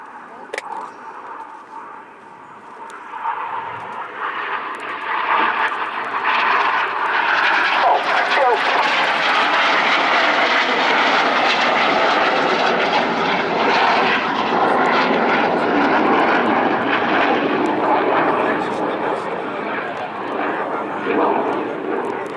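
RAF Red Arrows jets perform a barrel roll during a display at RIAT 2025, a loud jet roar that swells after a few seconds and holds strong and sustained, with a commentator's voice over it.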